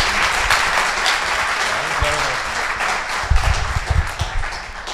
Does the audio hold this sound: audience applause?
yes